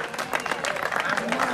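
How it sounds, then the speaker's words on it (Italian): Applause from a gathered crowd at a Speed Down Cup race in Sersale for a finisher, brisk scattered clapping under a voice over a PA. "Un applauso Gian Claudio."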